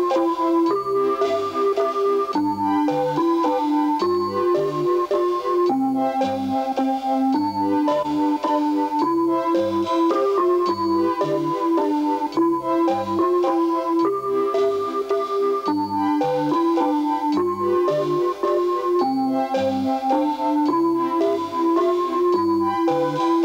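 A Casio keyboard plays a Mozart melody over a steady automatic accompaniment, with a bright lead line above bouncing chords and bass in an even triple-time pulse, loud and continuous with no voices.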